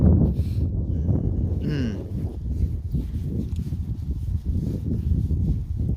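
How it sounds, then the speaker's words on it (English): Gusty wind buffets the microphone in a continuous low rumble, with faint scuffing sounds and a brief squeak in the background. "this is where it might start to get a bit windy"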